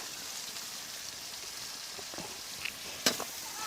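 Onions fry quietly with ginger and green chili while being stirred, a soft continuous sizzle with a few faint scrapes. A sharper metallic clink comes near the end, and no one talks.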